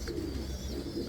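Pigeons in a racing pigeon loft give a soft, low coo, a brief murmuring call over faint background hum, with no one talking.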